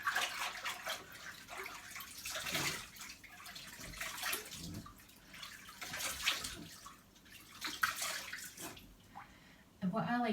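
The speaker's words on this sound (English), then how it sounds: "I am going to rinse it with some warm water." Warm water splashing and dripping as a face is rinsed at a basin, uneven bursts of close watery noise with someone talking at times.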